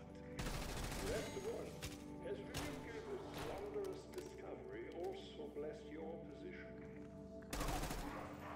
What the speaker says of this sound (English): Why is the security shooting at me?